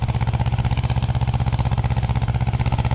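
Ursus C330M tractor engine idling with a steady, rapid, rhythmic chugging, close and fairly loud, its regular pulsing beat continuing without talk.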